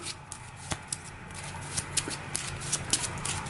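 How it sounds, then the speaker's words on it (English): A deck of cards being shuffled by hand during a tabletop card game, a close run of crisp riffling snaps and flicks lasting a few seconds, with no talk. "So once again, we'll give this a shuffle"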